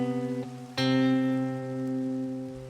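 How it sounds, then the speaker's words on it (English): Minecraft note blocks sound a major seventh interval that resolves up to an octave: a plucked tone held briefly, then a bright second strike ringing out and slowly fading, quiet and alone. "playing a major seventh into an octave"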